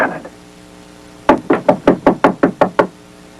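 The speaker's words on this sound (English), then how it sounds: "Go on. Knock on the door. Knock on it." A door is knocked on in a rapid, even series of about nine loud, close raps, with only faint background sound before them.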